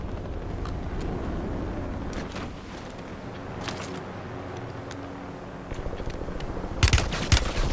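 Distant gunfire in the Black Ops 6 Warzone battle royale on Verdansk, scattered faint shots over a low rumbling background, growing into louder, closer sharp bursts near the end.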